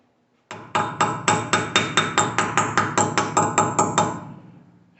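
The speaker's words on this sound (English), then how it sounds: "you tap it on with a little hammer" A small hammer taps a dust cover onto a 1968 Mercedes-Benz 280S wheel hub, with about fifteen evenly spaced, ringing metallic strikes close by that fade slightly at the end.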